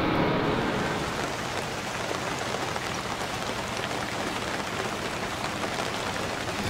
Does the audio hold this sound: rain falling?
yes